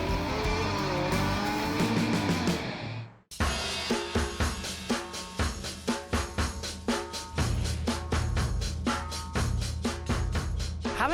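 A Ferrari 812 Superfast sports car driving in Florida, its engine revving hard with a brief lift and a sharp cut-out, then a run of rapid, rhythmic engine pulses as it climbs through the revs, close and loud.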